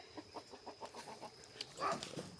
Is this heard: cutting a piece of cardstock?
no